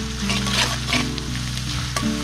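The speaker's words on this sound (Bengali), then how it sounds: "মোটামুটি এখন পেঁয়াজটা সিদ্ধ হয়ে আসছে" Onions fry in a pan with salt for a hilsa fish curry, giving a steady close crackling sizzle with faint stirring scrapes throughout.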